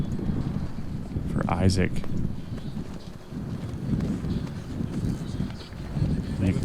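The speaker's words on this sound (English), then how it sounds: "You can see and hear that wind picking up in a big way here on 15." Strong wind gusting across the 15th hole of a golf course during a charity tournament's final round, a continuous low rumbling roar buffeting the microphone, with a commentator talking briefly over it.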